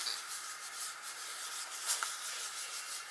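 Paint blended across an art journal page with a wipe, a close, soft continuous rubbing hiss with gentle swells as the cloth moves back and forth.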